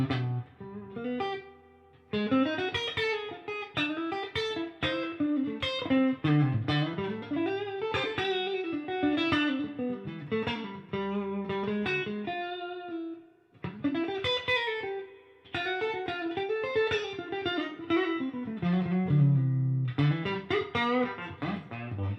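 Electric guitar playing a melodic passage with chords and single notes, drenched in amp reverb, steady and moderately loud with a brief pause midway.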